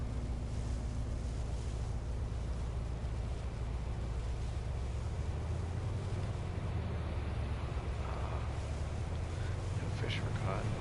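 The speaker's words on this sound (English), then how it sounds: "These waves are killing me." Ocean waves in the fishing game Fishing: North Atlantic: a constant heavy wash of surf and wind with a low boat rumble, loud and unbroken, while someone talks over it.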